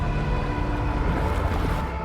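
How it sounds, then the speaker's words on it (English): Ocean waves wash steadily along a beach in the video game Death Stranding 2, a constant rumbling surf with a faint sustained tone running underneath. "Waves? Yes, they are."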